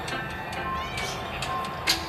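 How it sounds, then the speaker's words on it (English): A cat meowing in Honkai Star Rail, a few short cries rising over a steady game background, with one sharper, louder call near the end. "Would you be quiet, Cat?"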